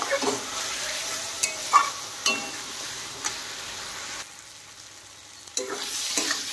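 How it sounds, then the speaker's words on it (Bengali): Potatoes cooked down with spices in a pan for a fish roe curry sizzle steadily while a spatula scrapes and stirs in irregular strokes, close and clear, with a brief quieter pause before the stirring resumes. "এখন দেখেন মশলার সাথে কিন্তু ভালোভাবে আলু কষানো হয়ে গেছে।"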